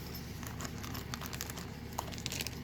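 A small plastic bag from folding-knife packaging crinkles softly and continuously at close range, with scattered faint crackles over a low background hum and no speech.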